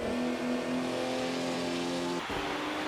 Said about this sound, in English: First Collins, then Salvadori dive past